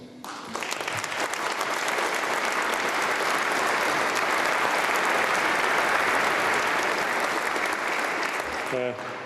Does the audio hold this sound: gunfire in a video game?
no